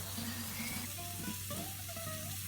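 Trout sizzle steadily in a frying pan, with a soft continuous crackle and a low hum underneath while faint kitchen sounds and brief tones pass over it.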